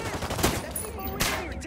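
Gunfire in the Ghost Recon video game, a short burst of rapid shots amid game audio and a radio voice, close and moderately loud.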